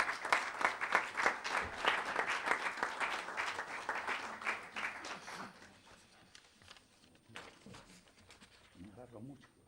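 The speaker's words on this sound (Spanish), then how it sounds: "Un aplauso para ella" An audience breaks into applause at a Spanish-language event, dense clapping that is loud at first and then fades out within a few seconds, with speech heard near the end.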